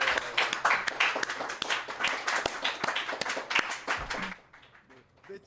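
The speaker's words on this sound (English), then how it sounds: "An applause for Sariel." A crowd applauds in a hall during a Shabbat gathering, a dense burst of hand clapping that carries on for several seconds before thinning out into a few scattered claps near the end.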